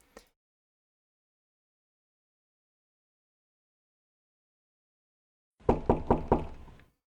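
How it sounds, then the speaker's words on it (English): A quick run of about four loud, close knocks on a bedroom door, coming alone after a long stretch of silence. "I'm woken up by the sound of knocking on my door"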